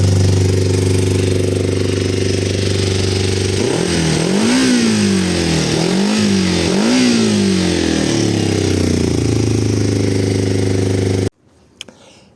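A Kawasaki ER-5 motorcycle, cold and running on a weak battery, cranks to life and settles into a steady engine drone, then revs up and down three times in a rising-and-falling pattern before cutting off abruptly near the end.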